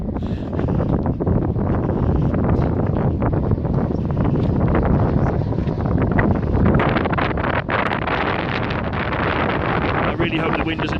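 Strong wind gusts steadily across open salt flats, buffeting the microphone with a constant loud rushing roar throughout.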